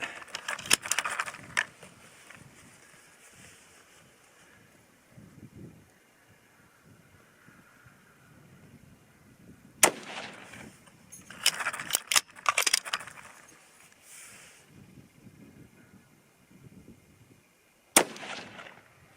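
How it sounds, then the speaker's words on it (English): Outdoor rifle range with 6.5 Creedmoor rifles firing, a few sharp distant cracks with clattering bursts between them over faint wind, no talking. "First cold bore, clean bore shot."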